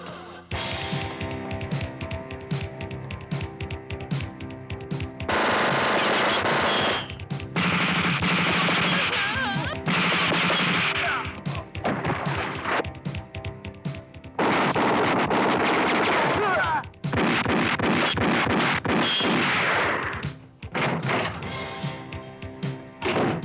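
Gunfire in a Tagalog action movie bursts out in long loud volleys and sustained rattling barrages between short pauses, heavy and close, mixed with the film's soundtrack.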